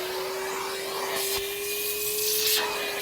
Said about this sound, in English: To do that, we're going to use the Metro Vacuum Blow.